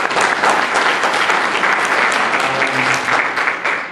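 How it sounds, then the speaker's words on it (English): A panel event audience gives a full round of applause, dense and loud, holding steady before tapering slightly at the end. "So give our panelists a round of applause."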